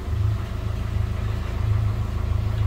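A Yanmar marine engine on a boat idling, a steady, close, low rumbling drone with an even pulsing throb and no change in pace over a few seconds.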